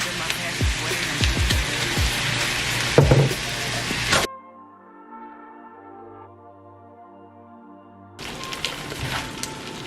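A soy-free teriyaki sauce made with coconut aminos sizzles and crackles loudly in a hot pan. The sizzle breaks off for a few seconds of near quiet with a faint tonal hum, then resumes just as strongly.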